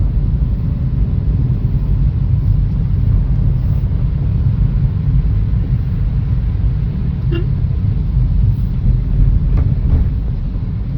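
Road traffic on the ghat road between Pune and Mumbai, a continuous loud low rumble of passing vehicles and wind with no talking.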